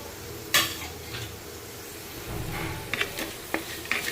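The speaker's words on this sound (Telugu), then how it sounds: "ఇది కొంచెం కలుపుతూ ఉండాలి." A spoon stirs semiya upma (vermicelli with carrot) in a pan, a steady scraping under a gentle sizzle, broken by a few sharp metallic taps against the pan's rim. No one speaks.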